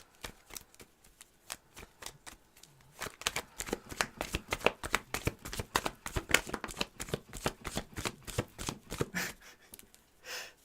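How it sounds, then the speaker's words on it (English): Playing cards are shuffled repeatedly, a few soft riffles at first, then a quick run of crisp flapping bursts close by. "the cards shuffling."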